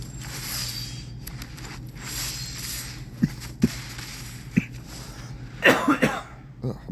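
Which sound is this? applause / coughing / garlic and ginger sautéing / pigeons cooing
coughing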